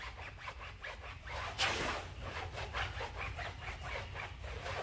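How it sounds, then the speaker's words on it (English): Tire on a 2017 Corvette Stingray scrubbed hard with cleaner, a steady run of rhythmic, raspy brushing strokes close up, with no voices. "Scrub your tire real good."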